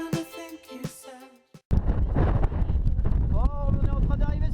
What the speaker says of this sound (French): Ça doit souffler fort dans la caméra, il y a beaucoup de vent.